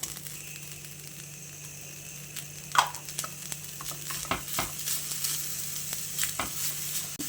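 Jaggery being stirred into fried grated coconut in a pan, a quiet sizzle broken by scattered scraping and clinking taps, no talking.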